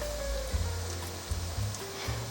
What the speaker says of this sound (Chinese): 我全程都是开中小火，给它慢慢的煎